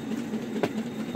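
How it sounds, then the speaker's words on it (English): A remote-control electric speeder rail kart runs on a standard gauge model train layout around a Christmas tree, giving a steady close rolling hum with two faint rail clicks. "Standard gauge model train Christmas tree layout"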